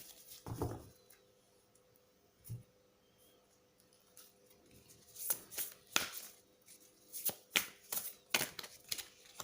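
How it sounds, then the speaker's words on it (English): Tarot cards handled and pulled from a deck during a weekly reading, giving a quiet burst of shuffling near the start, a lone soft snap, then a run of crisp close flicks and slides toward the end. "So any random card I can just take it out."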